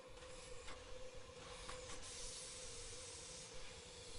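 A steam train getting under way in the Murder on the Orient Express game, with a steady loud hiss of steam and rumbling rail noise that continues without a break and carries no talk.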